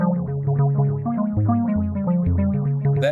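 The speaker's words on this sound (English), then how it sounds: "And all the way to the right, we only hear the delayed signal." An electronic instrument runs through an Endorphin.es Ghost delay pedal set fully wet, so only the delayed signal sounds: a loud, continuous run of quick plucked synth notes with distorted, chorused repeats, with no talk.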